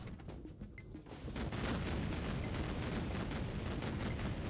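A big explosion in Duke Nukem 3D bursts out after a quieter opening second, then a loud, rumbling blast and debris roar sustained to the end, with rapid flickering pulses through it.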